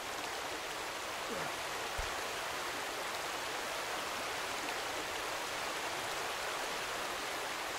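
Steady rushing water from a stream or waterfall in a difficult climbing video game, a continuous even wash of noise with no breaks.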